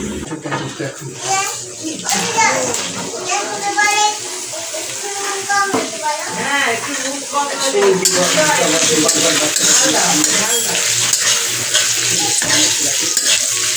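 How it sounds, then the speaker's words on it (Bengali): Tempering spices hit hot oil in a pan, sizzling and hissing, growing louder and steadier partway through, with people talking over it. "এটা আগে বাগারটা দিই"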